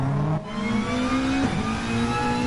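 A Subaru WRX race car in a racing video game pulls out of the pits with a loud, close, sustained engine drone. The pitch steps up twice through quick gear changes.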